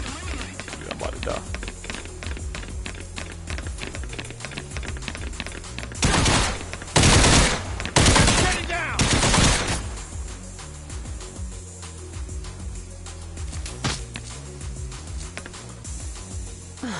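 Rapid automatic gunfire from the VR shooter Espire 1 chatters in repeated bursts, swelling into several loud, close volleys around the middle before settling back to scattered shots.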